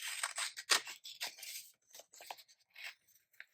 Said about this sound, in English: So let's cut this bottom one off for now.